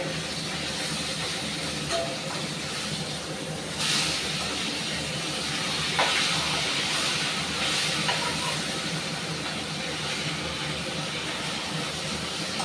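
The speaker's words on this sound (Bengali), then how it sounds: "ভালোই ভাজা হচ্ছে।" Fish heads frying in hot oil, a continuous loud sizzling hiss that stays steady throughout with a few small pops and no talking.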